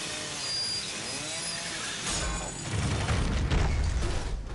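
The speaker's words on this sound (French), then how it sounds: "il me fallait la tronçonneuse pour ouvrir" A chainsaw in the horror video game The Evil Within, a buzzing mechanical whine that swells into a louder, rougher roar, heard close with a harsh, gritty texture.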